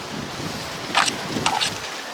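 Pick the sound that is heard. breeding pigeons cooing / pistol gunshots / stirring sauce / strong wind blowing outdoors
strong wind blowing outdoors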